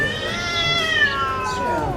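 A cat meows in a drawn-out, wavering call that rises and falls over about two seconds, fairly close and clear against a low background hum.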